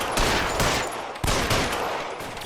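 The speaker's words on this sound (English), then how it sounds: "Bro got shot at least about 10 to 13 times." Gunfire in the video game L.A. Noire, a rapid fusillade of loud, close shots in several bursts, each crack trailing into a noisy wash, with no speech.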